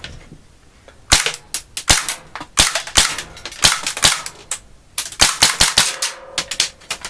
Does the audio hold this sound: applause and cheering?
no